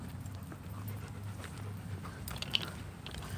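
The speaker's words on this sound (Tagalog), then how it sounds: "Maraming aso ngayon, Robbie boy." A dog pants softly in short, rapid breaths nearby, with some faint chewing or crunching noises mixed in.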